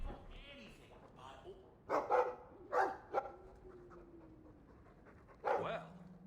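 A dog character in Dragon Age 2 barks and pants in a few short bursts, fairly close, with game sounds and talk around it.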